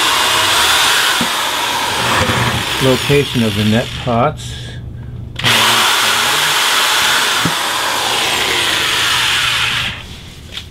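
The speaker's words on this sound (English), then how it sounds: "So I'm going to drill 2 1/4-inch pilot holes for the actual" A power drill whirs steadily drilling quarter-inch pilot holes in a plastic bucket through most of the clip, pausing briefly midway, while someone speaks for a few seconds over it.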